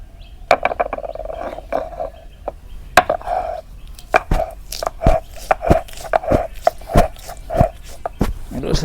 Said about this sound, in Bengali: আমি শিলপাটা নিলাম এখন বাড়ি